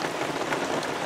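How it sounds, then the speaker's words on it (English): Heavy pouring rain hisses steadily outdoors, a dense, even wash of drops that is fairly loud and continuous over a brief stretch, with no talking. "It's pouring rain still"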